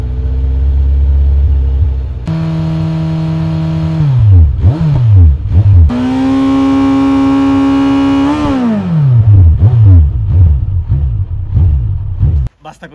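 A motorcycle engine revs up and down repeatedly while standing still, loud and close, with sharp throttle blips and pitch swoops settling back to idle.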